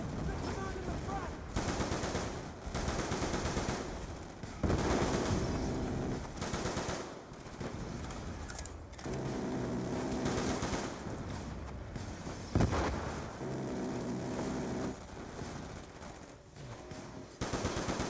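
Dense, sustained automatic gunfire from Call of Duty: Black Ops 2, with rapid rattling bursts continuing almost without pause and brief dips between volleys, while voices talk faintly underneath.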